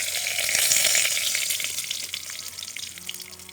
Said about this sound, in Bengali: তেল দিয়ে দিয়েছি এবার তেজপাতাটা দিয়ে দিচ্ছি ছিঁড়ে দিচ্ছি